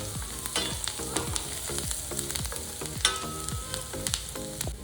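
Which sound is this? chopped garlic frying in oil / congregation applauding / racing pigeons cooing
chopped garlic frying in oil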